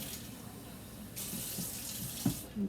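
Warm water runs from a kitchen tap as a soft, continuous trickle with a few faint clunks and splashes, fairly quiet and without talk.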